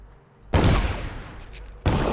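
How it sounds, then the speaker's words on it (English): Gunfire in the stealth video game Dishonored: a loud, dense burst of shots erupts after a quiet moment, rattling on for over a second before a second sharp blast hits at the end. "I for sure did shoot him."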